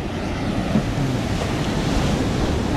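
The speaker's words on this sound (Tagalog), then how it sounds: "Oh, lumalaki ulit ang alon." Sea waves break and surge near small fishing boats, a loud, continuous wash of surf mixed with wind buffeting the microphone, with no voices.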